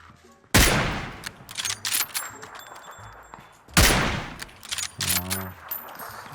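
In PUBG, two loud, close bursts of automatic rifle fire crack out, each trailing into echoing tails, with a few shorter shots and faint metallic clinks scattered between them.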